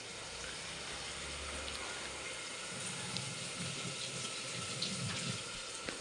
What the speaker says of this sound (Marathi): चार पाच मिरच्या आहेत धुवून घेते